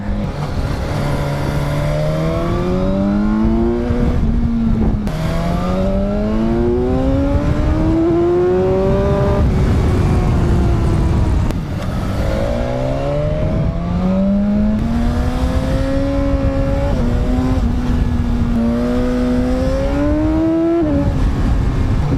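A motorcycle engine pulls hard while riding on a mountain pass road, loud and close, rising repeatedly through the revs with quick auto-blipper shifts between gears over steady wind noise.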